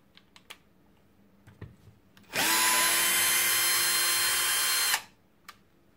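A Bosch GSR 12V-15 FC cordless drill driver drives a screw in position 2, a loud, even whine lasting about two and a half seconds, with faint clicks and knocks before and after.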